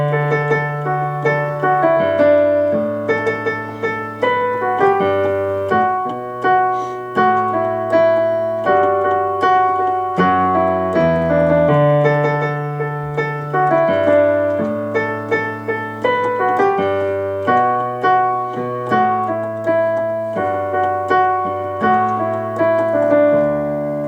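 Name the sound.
piano playing the chorus of a song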